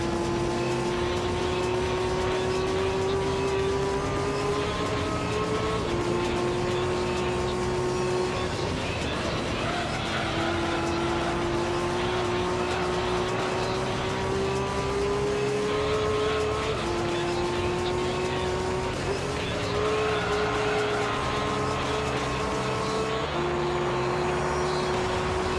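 A race car engine in Gran Turismo 3 holds a steady, loud drone, climbing in pitch through each gear and dropping at every shift, with throttle pushes repeating over a long continuous run.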